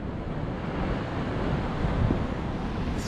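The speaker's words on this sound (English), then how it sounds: "Watch a big massive wall of water come over." Rough sea surging and crashing over a pier wall at Whitley Bay on a cold sunny day, a continuous loud roar of breaking water mixed with heavy wind buffeting the microphone.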